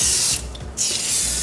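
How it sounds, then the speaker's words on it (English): Super Clean degreaser hisses from a spray bottle onto a stove in two close bursts, loud and near, with a short pause between them. "then just spray all of it"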